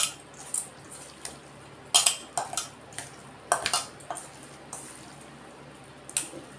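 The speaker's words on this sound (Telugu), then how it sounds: "ఇలా మొత్తం అంతా కలిపేసుకుందాం బాగా కలిసేటట్టు।" A spoon stirs a Godavari-style prawn fry in a metal pan. Sharp clinks and scrapes come in irregular bursts, close and fairly loud, with quiet gaps between them and no talking.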